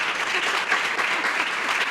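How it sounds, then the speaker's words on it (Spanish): Audience at a flamenco and ethnographic film festival colloquy in Jerez applauding director Benito Zambrano, a brief burst of dense clapping at moderate volume lasting a couple of seconds. "Un aplauso para Benito Zambrano."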